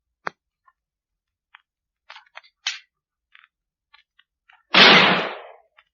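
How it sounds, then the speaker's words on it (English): A gun fired from a window in a radio drama, heard as one loud, broad burst of noise that fades over about a second, preceded by scattered faint clicks and taps. "Fire your gun out of the window. Just fire it in the air."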